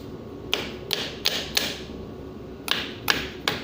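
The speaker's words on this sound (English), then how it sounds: "Tapping it." A screwdriver taps on a small pump during a leak repair, giving about eight sharp metallic knocks in an uneven rhythm. The knocks are close and clear over a low background hum.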